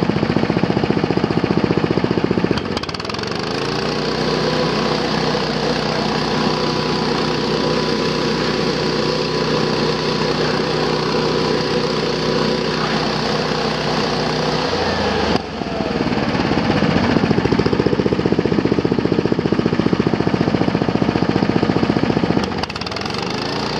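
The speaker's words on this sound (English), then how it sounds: "So now let me crank up the idle." A Billy Goat machine fitted with a forward discharge elbow attachment runs its small engine loud and close, dipping briefly before rising to a steady high idle, then settling back at the end.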